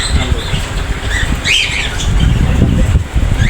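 Caged birds at a bird shop in a market, squawking and chirping together in a dense, continuous chorus, with a louder rising call standing out briefly in the middle, close and fairly loud.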